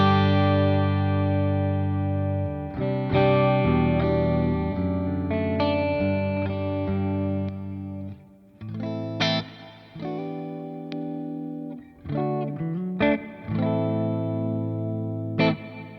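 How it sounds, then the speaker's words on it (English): Electric guitar chords and single notes through a Quad Cortex modeler ring out with a wash of reverb, sustained tails lingering, played alone and fairly loud. "This is the Quad Cortex with some whole reverb."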